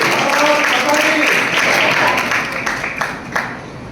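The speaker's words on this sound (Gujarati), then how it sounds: "હા, હવે આપણે તાળીઓથી આને વધારીએ।" Sustained audience applause from a crowd at a school function in Damavaskampa, Khedbrahma taluka, a dense, steady wash of clapping that stays loud throughout and thins slightly toward the end.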